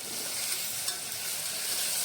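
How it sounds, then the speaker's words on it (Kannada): Tomatoes fry in oil in a pan and are stirred, giving a steady, close hiss and sizzle throughout. "ಸೊ ಈಗ ನಾನು ಅದಕ್ಕೆ ಟೊಮೊಟೊ ಹಾಕ್ತಾಯಿದ್ದೀನಿ."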